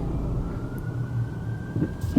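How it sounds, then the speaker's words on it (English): Ambulance sirens pass along a road: a faint, distant, drawn-out tone slowly rising over the low rumble of traffic. "Oh my god, it's ambulances."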